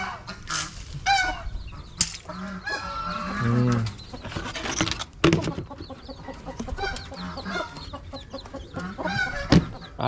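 Domestic chickens in a Vietnamese riverside farmyard, hens that share ground with ducks, cluck and squawk in loud, close, irregular bursts, with honking calls that sound goose-like mixed in throughout.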